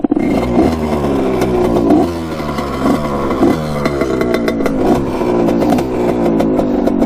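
Honda CR80 two-stroke dirt bike, freshly restored, revving hard at full throttle with a rising and falling engine whine and repeated gear-like pitch sweeps, loud and close throughout with no talk.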